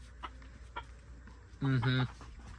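Chickens in a winter coop in northern Wisconsin give a couple of soft clucks, then one louder, drawn-out squawk, over a steady low background hum.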